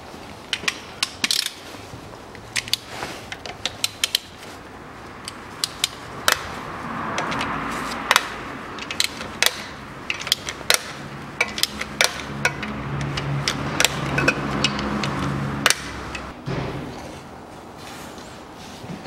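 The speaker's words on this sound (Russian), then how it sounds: "Все, все болты по периметру открутил от фильтра." A ratchet wrench clicks rapidly while loosening the perimeter bolts of the CVT filter pan on a 2010 Nissan Murano Z51, bursts of dense metallic ratcheting with short pauses, close and fairly loud.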